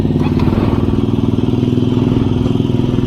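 A KTM 200 NS motorcycle, freshly serviced with its chain cleaned and lubricated, runs steadily while being ridden, its engine drone loud and close with a rough, continuous pulse throughout.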